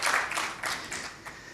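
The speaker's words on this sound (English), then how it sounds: "Before that, we can clap for the example." A small audience claps together after a speaker at a talk about ranking for SEO keywords, a soft, dense patter of many hands lasting under two seconds at moderate distance with no voices over it.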